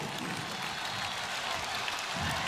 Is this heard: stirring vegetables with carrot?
no